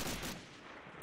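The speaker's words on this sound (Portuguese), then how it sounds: "Belo tiro aqui do Bonner no marreta" Gunfire in the World War II shooter Medal of Honor: Allied Assault during a competitive multiplayer match, heard as a couple of sharp shots bracketing a brief stretch of busy game noise, fairly loud and with no talk.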